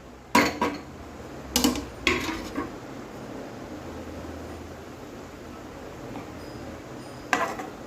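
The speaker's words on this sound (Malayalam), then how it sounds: "എടുത്തിട്ട് നമുക്ക് തുമര അങ്ങോട്ട് ഇട്ട് ഒന്ന് ഇളക്കി" Cooked pumpkin being stirred in a pan for a Kerala thoran: several sharp metal spoon clacks against the pan in quick clusters, then a quiet stretch with one last clink near the end.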